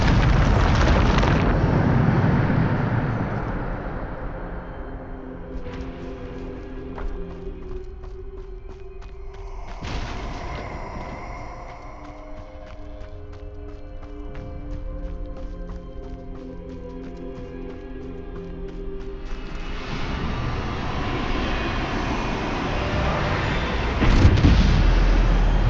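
A Bombarda spell explosion in the video game Hogwarts Legacy bursts out as a loud, deep boom and rumble, fading into a sustained musical drone before a second blast swells near the end.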